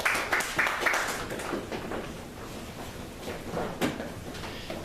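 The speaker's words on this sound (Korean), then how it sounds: "박수해 주시죠." Applause from a church congregation during a Sunday service, moderately faint scattered clapping that starts stronger and tapers off, with a few louder claps near the end.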